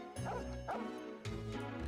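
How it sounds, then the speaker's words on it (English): A cartoon dog in the Wii game Opoona gives three short, bright yips in a row, each one close and clear over quiet background music. "Dog is running around happily."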